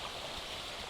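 Flowing stream water in The Isle, a steady broadband rush of running water, close and continuous for about a second with no talk.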